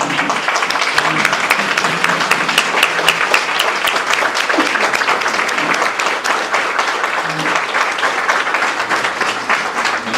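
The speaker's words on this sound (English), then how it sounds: "let's give them a round of applause" A large crowd applauds steadily and loudly, a dense wash of clapping that holds for the full stretch with no talking over it.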